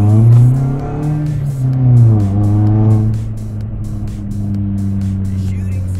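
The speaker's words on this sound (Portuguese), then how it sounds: "O ronco realmente empolga, não chega a incomodar quando você está andando um pouco com o carro" A track-prepared Volkswagen Gol 1.6 engine roars loud and close inside the moving car, its deep tone rising and falling as the revs shift, with a voice speaking over it.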